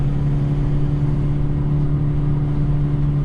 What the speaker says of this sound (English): Actually hear the turbo sound